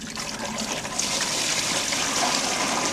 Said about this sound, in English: I'm pouring water into a beer cooler.